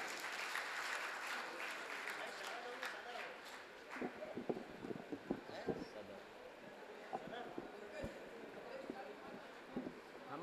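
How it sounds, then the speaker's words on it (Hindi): An audience claps at a Hindi kavi sammelan, a dense, moderately loud round of applause that thins into scattered claps, with voices murmuring underneath. "भाई साहब ताली बजा दो"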